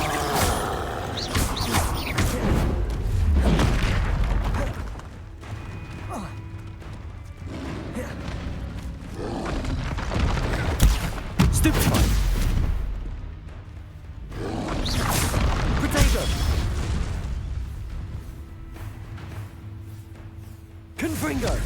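Confringo fire spells blast repeatedly in the Hogwarts Legacy video game, with loud whooshing bursts swelling and fading among other spell effects while a voice calls out over the action.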